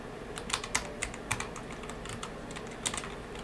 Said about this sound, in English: Why can I not type my password in?